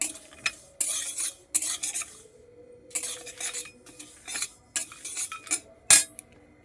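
Sesame seeds and cashews stirred in a pan over a medium flame: repeated bursts of metal spoon scraping and clinking against the pan over a faint sizzle, close and without talk.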